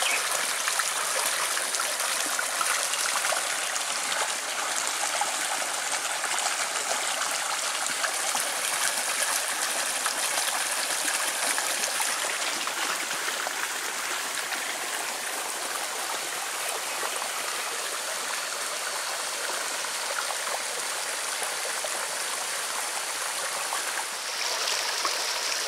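A spring-fed creek at Antelope Spring in Chickasaw National Recreation Area flows steadily, a close, continuous rushing and trickling wash of water that stays loud and even throughout with no voices.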